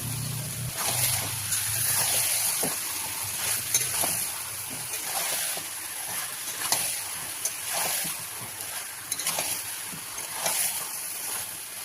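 Marinated chicken and potatoes hiss and sizzle loudly in hot oil in a pan, a steady crackling fry with bursts of spattering and occasional stirring scrapes, no talking.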